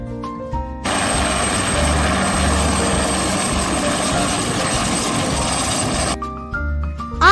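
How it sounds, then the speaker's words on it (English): A helicopter's rotor thumps and engine roar fill several seconds at close range, starting and stopping abruptly between brief musical notes. "H is for helicopter"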